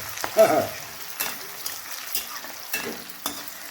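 Whole garam masala spices sizzling in a wok while a spoon stirs them, giving a low frying hiss broken by several sharp scraping and clattering strokes, close and moderately loud.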